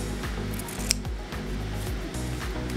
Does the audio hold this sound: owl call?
no